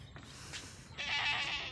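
A goat bleats nearby in a grassy meadow, a short nasal cry rising near the end over faint outdoor background noise.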